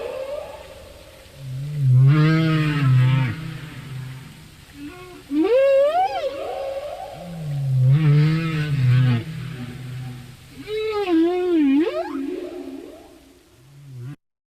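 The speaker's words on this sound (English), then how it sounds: "I'll play a clip for you of a humpback whale song" A recorded humpback whale song plays alone, with alternating low groaning pulses and rising, wavering whoops in a slow repeating pattern, loud and continuous.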